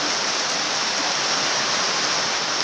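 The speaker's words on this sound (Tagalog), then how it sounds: "Oh, kusog kayo. Oh, ulan diri." Heavy rain pours in a steady, dense broadband hiss with no letup, loud and close, without any voices.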